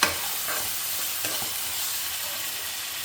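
Half a bowl of fresh peas tipped into fried onion and tomato, a brief clatter at the start followed by a steady, even sizzle with a few light stirring scrapes, no voices.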